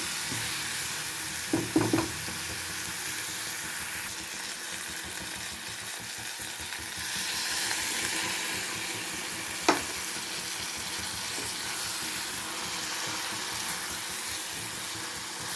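Eggplant, green chillies and ginger sizzle steadily in a pan while a spoon stirs them, with a few sharp scrapes and knocks against the pan.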